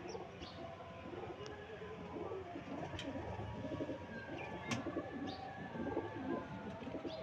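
Breeder pigeons, including a Kasuri blood-lamp hen, coo steadily in a loft, soft repeated throaty calls overlapping with occasional chirps and a few brief clicks, fairly close and continuous throughout.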